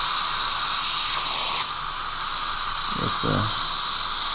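Dental drill fitted with a coarse diamond bur grinding tooth dentin, a loud, continuous high-pitched whine with hissing water spray and brief dips as it touches the tooth, a voice murmuring briefly beneath.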